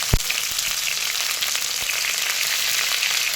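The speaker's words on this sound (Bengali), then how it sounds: "কপিটা ভাজার সময় আমি এখানটায় পরিমাণ মতো হলুদ আর লবণ দিয়ে দিচ্ছি।" Cauliflower sizzles steadily in a hot pan with turmeric and salt, a continuous hiss with a few soft knocks from stirring.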